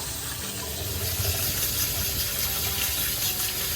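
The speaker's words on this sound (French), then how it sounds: "on y ajoute tout de suite de l'eau froide" Cold water poured over blanched green beans in a kitchen, a steady rushing broadband wash of running liquid filling a bowl or pan, close and continuous with no talking.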